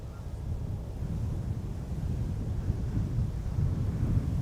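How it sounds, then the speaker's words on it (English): Steady wind buffets the microphone at an airport, a continuous low rumbling roar with gusts that swell slightly over the few seconds, with no talk. "Oh, the wind isn't helping."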